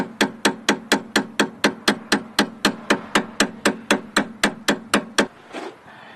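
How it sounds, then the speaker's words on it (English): A rubber mallet strikes a small socket extension to drive out a Porsche 928S front shock, about twenty sharp, evenly spaced metallic taps in quick rhythm, loud and close, ending with a short pause and faint handling. "we're going to tap it out the rest of the way. rubber mallet and a small socket extension works good enough"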